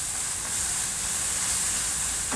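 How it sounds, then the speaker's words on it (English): Ginger and garlic paste frying in a hot pan for butter chicken sauce, a steady close hiss and sizzle running without a break and with no talk. "Just fry it for about 30 seconds until the rawness goes off here"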